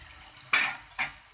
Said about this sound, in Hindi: जो उबली हुई दाल डाल दी।